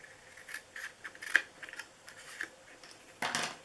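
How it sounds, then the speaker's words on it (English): Scissors cut straight down through craft material for a St. Patrick's Day treat box, with a few quiet, separate snips and soft scrapes spread through an otherwise hushed stretch. "You're just going to cut straight down and then cut this piece off."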